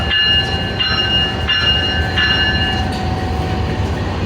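A locomotive backs up to collect the new rake for the Lasani Express inauguration at Lahore, with a loud, steady rumble under sustained horn-like tones that pulse a few times, close by and without talk.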